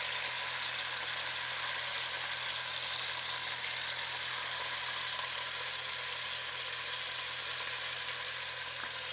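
Beef rouladen sear in a hot pan, a continuous close sizzle and hiss that stays even throughout, with no voices.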